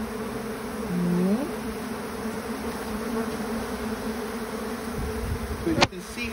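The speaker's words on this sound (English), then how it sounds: "you can see how they're going into the box because they smell their colony." Bees buzz steadily around a box during a hive rescue, a soft continuous hum close by with occasional louder passes of individual insects and a brief thump near the end.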